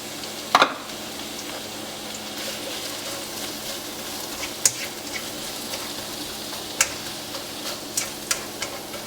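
Onions sauté in a pot over medium heat for Filipino pancit bihon, making a low, even sizzle broken by scattered ticks and light clinks of a utensil against the pot.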